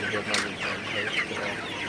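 Sonali super heavy chickens clucking steadily at close range on a cool morning, a dense flock chatter with a few sharper calls rising above it, no voices.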